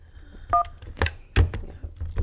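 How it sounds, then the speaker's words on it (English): A telephone being dialed to call someone back: a brief dialing tone followed by a few sharp clicks and handling knocks, heard close with no talking. "Let me get Carl back on the phone."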